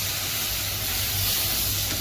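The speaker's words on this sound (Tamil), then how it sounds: "நம்ம கட் பண்ணி வச்சுட்டு தக்காளி ஆட் பண்ணுங்க" Chopped large ripe tomatoes hitting a hot pan for Tamil-style tomato chutney, giving a steady, close sizzling hiss that holds evenly for the whole two seconds with no talk over it.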